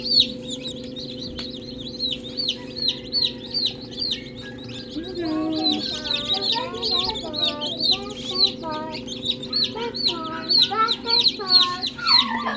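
Rhode Island Red chicks give high repeated peeping calls throughout, close and lively, with lower clucking from older birds joining in the middle, over a steady background hum and occasional voices.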